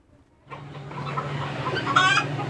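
Fayoumi chickens cluck and murmur close by after a brief quiet start, a few sharper squawks rising near the end.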